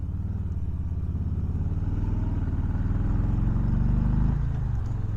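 A 2020 Harley-Davidson Softail Low Rider rumbles through a turn, its V-twin loud and close with a pulsing low throb that climbs slightly in revs and then eases off.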